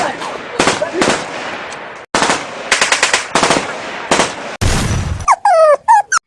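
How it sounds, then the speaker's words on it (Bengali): Rapid bursts of automatic gunfire rattle loudly in several volleys, followed by a dog yelping at the end. "ফয়সাল এই গুলিতে কিছু হবে না"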